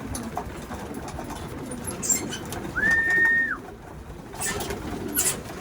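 A single soft, drawn-out pigeon coo rises once over steady outdoor background noise, with faint chirps of other birds nearby.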